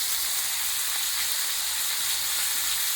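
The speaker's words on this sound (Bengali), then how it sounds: "তো চলো মাছগুলো আমি এভাবে বসিয়ে দিলাম, হতে থাকুক।" Fish frying in a pan, a steady dense sizzle that stays loud and even throughout with no voices.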